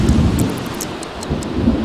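Steady video game rain with a low rumble of thunder in The Sims 3, continuous and fairly loud, no voices.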